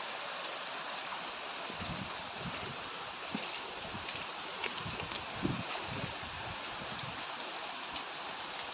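River after Typhoon Ompong flowing with a continuous, fairly quiet rushing wash of water, steady throughout with faint low thumps and no talking.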